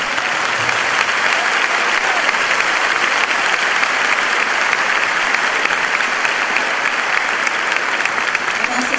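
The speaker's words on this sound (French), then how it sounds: "Un applaudissement pour notre Dieu." Loud, continuous applause from a congregation at a French-language Bible study service, a dense unbroken wash of clapping with faint voices beneath.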